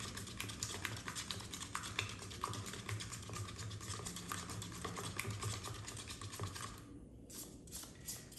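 Steady scraping and stirring as TLP pigments are mixed into a pour paint mixture, a soft, quiet, continuous tapping and swishing with no voice.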